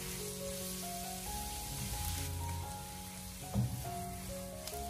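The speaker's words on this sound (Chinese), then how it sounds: "所以这一步我们只需要将竹笋给它快速的翻炒一下" Pre-blanched spring bamboo shoots are stir-fried quickly in a wok over medium-high heat, a soft steady sizzle with a brief spatula knock, heard beneath louder background music.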